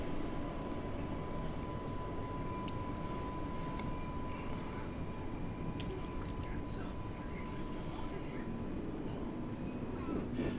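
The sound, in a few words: Class 484 train sounds in the video game Train Sim World 2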